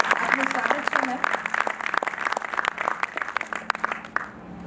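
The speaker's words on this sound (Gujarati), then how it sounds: "જેમને આપણે તાળીઓથી વધાવી લઈએ" An audience applauds to welcome a guest speaker at a discourse gathering, steady clapping over several seconds with voices murmuring underneath, tapering off at the close.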